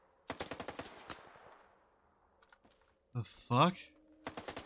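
Rapid bursts of automatic gunfire in the video game STALKER 2, a quick volley of sharp cracks with a decaying tail, then scattered distant shots; a person speaks briefly midway.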